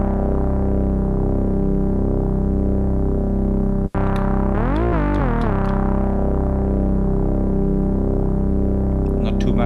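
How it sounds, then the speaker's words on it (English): Elektron Digitone playing a Moog-style bass lead with chorus, loud sustained synth notes with a gliding pitch sweep midway and a brief dropout, no talking. "I like to put a little bit of chorus on it to make the sound a little bit wider."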